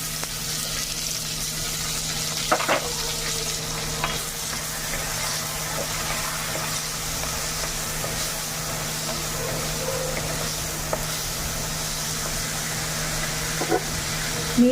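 Tomatoes tumble into a pan of onions fried until reddened for a Rajasthani dish, raising a steady broad sizzle with a few soft clinks and stirring knocks, close and continuous without any talk.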